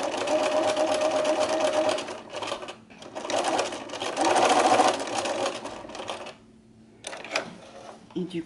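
A sewing machine finishes a seam on a dress, its rapid mechanical stitching chatter running in bursts with brief stops and a quiet gap near the end.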